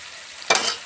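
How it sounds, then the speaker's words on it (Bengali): Spice masala goes into softened tomatoes for ghugni, producing a sudden loud sizzle about halfway through that keeps crackling at a steady, close level after a quiet start. "মশলাটা দিয়ে কিছুক্ষণ কষে নেবো"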